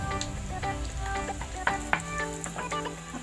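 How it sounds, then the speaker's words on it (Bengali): Cumin, coriander and asafoetida spatter in hot oil, a close, steady sizzle with sharp little pops and crackles running throughout. "তেল গরম হয়ে এসছে, আমি এতে দেবো জিরে ধনে, আর দিয়ে দেবো হিং"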